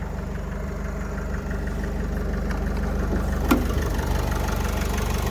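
A 2013 Opel Vivaro 2.0 diesel passenger van with electromagnetic injectors and a Euro 5 engine idles steadily and close by. It has an even low rumble and one brief clack partway through.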